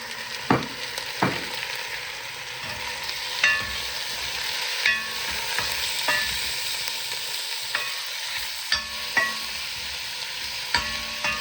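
Meat sizzles and fries in a pan, a steady loud hiss broken by occasional stirring knocks and scrapes, with no voices.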